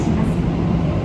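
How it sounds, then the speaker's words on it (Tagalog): Steady, loud rumble of a train ride in Tokyo, a dense low-pitched roar filling the whole second without pause. "nandito na kami sa tren"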